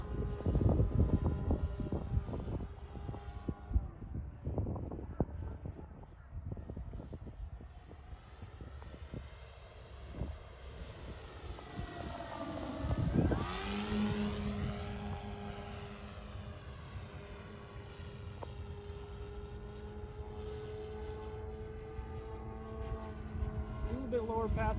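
Restored Great Planes Gee Bee RC model airplane in flight, its engine drone rising and falling through passes with a pitch-shifting swoop near the middle, heard continuously under people talking outdoors.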